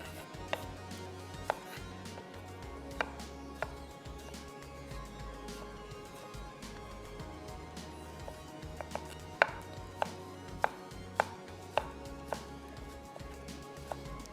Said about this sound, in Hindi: साथ ही साथ यहाँ पे टमाटर भी चॉप करेंगे